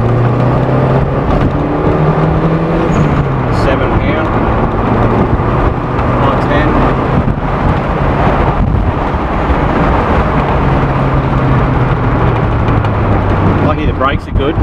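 A Ford Capri B6 turbo XR2 engine revs loudly while being test-driven up a road, a steady rising and falling drone with wind buffeting, heard close throughout with some talk from people inside.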